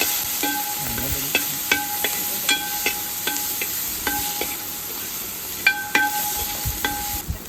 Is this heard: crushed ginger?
yes